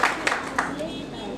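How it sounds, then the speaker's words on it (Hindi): A few scattered, sharp hand claps from a mushaira audience at a Holi gathering ring out in quick succession, mixed with voices and room noise. "आप लोग एक मरतबा अजय भाई के लिए तालियां बजाकर मुझे बता दें"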